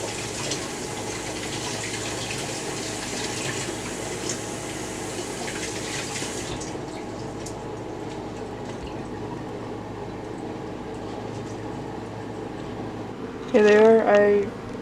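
Running tap water gushes steadily over oranges being washed for agua fresca, loud at first and then softer, with a short burst of voice near the end.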